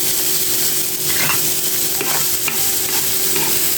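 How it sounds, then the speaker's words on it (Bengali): Shrimp fry in oil with onions and green chilies in a pan, a loud, steady close-up sizzle with intermittent crackles and spits over a constant hiss, no talking. "চিংড়ি মাছটা ভেজে নেব"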